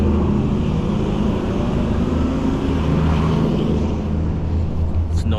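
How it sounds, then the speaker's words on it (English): A next-generation Ford Ranger pickup truck runs noisily close by, a steady low engine rumble and drone holding throughout with no breaks. "It's a noisy truck."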